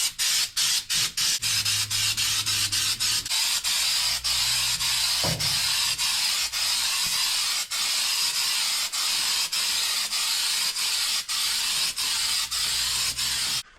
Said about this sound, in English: It's clearly professional trunk spray.